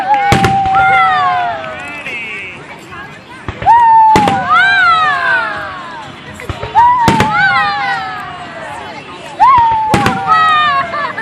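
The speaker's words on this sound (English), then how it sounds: "These fireworks are really light." Fireworks go off in a rapid series: sharp loud bangs and crackles, each followed by rising and falling whistles, repeating roughly every three seconds.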